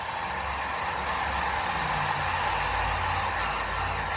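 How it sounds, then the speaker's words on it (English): Heat gun blowing over a rainbow acrylic paint pour, a steady, rushing airflow roar that holds evenly close by, with no talk. "I'm just hitting it with heat one more time."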